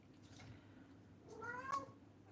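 A house cat gives a short meow at a door indoors, one faint mid-pitched call rising near the end over quiet room noise, with no talking.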